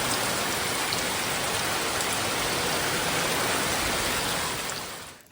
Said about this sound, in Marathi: दोन मिनटात बघा जरा वाढला पाऊस जोर